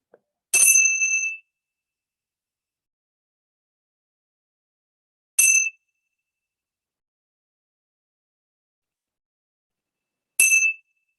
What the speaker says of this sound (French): laissez résonner en vous les 3 sonneries de la cymbale pour émerger doucement de ce moment de méditation